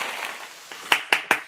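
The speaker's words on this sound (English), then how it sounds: "Let me get my clapping thing here going on." Three sharp claps from a clapping sound effect ring out close and loud in quick succession, following a short stretch of soft background noise.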